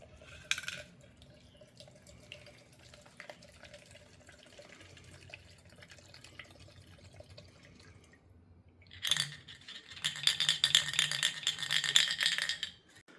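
Rust-Oleum color shift spray paint pours from an opened can into a container, a liquid splashing and trickling that starts suddenly and keeps going for several seconds after a quieter, rattly stretch.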